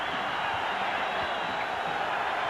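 A Forum arena crowd roars and cheers at Game 3 of the 1985 NBA Finals against Boston, a steady, faint, distant wash of noise with no breaks.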